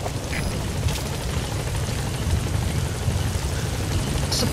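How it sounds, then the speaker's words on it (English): A support helicopter in Metal Gear Solid V thrums steadily nearby, its rotor wash forming a continuous, moderately loud drone that carries unchanged from start to finish with no voices. "Support helicopter has arrived."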